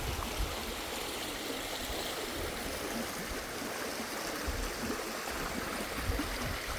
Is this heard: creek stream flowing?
yes